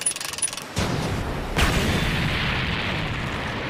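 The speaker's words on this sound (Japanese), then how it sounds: "大砲の練習だよ。" A cannon aboard a pirate ship in an anime scene, fired during cannon practice at the Baratie, fires once with a sudden loud boom, followed by a second crack and a long rumbling roar that slowly fades.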